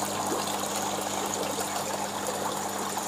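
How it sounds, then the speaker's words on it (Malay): Water trickles steadily into a fish tank in a tilapia recirculating aquaculture system with a slow flow, a continuous soft running and splashing with a low pump-like hum beneath, even and close throughout. "Air masuk."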